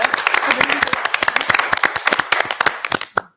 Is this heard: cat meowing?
no